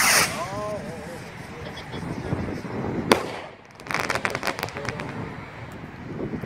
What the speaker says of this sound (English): Got the second Skymaster rocket.